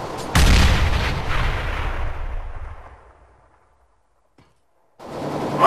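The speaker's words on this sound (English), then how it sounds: "Grenade out. Grenade out." A video-game grenade goes off with a single loud, close blast, and its rumbling tail fades out over about three seconds. After a near-silent gap, another burst of noise starts.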